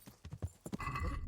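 Horse hooves clip-clop in a rhythmic run of close, distinct beats while riding in the medieval video game Kingdom Come: Deliverance, giving way to a steadier rumbling bed near the end.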